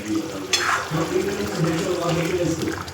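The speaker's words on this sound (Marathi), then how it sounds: "त्याच्यामुळे मी थोडं पाणी टाकते." Water is poured into a pan of thickening chicken curry, a brief splashing pour near the start that fades into soft simmering sizzle, with someone talking over it.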